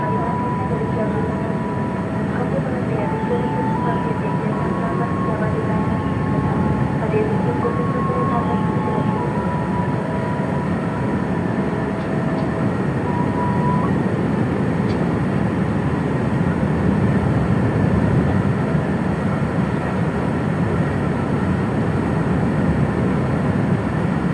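KRL commuter train pulling out of Yogyakarta station on the Solo–Jogja line: a continuous low rumble and rolling drone fill the platform, with faint tonal chimes or announcement tones over the steady machinery noise.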